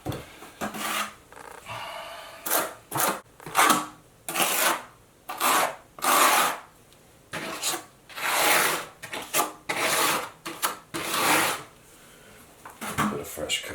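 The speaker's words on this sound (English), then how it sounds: "I'm putting another coat while I'm putting the mud on the face of the curb" Trowel spreading thinset mortar onto the face of a shower curb over cement backer board, rhythmic scraping strokes in bursts with short pauses, close and fairly loud.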